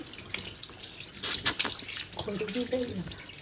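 Tap water runs steadily into a sink during face washing, a close, continuous hiss with a few brief splashes, and a voice speaks briefly near the end.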